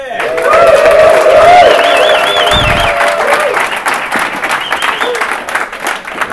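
A conference audience bursts into loud, sustained applause and cheering to welcome a speaker, with dense clapping and whoops throughout and a voice calling out above it.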